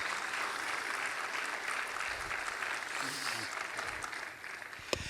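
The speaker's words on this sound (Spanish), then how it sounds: "Déselo al Señor si le va a aplaudir, no se quede medias" A church congregation applauds, a thick, sustained wash of clapping that stays fairly loud across several seconds, with faint voices mixed underneath and a single sharp clap standing out near the end.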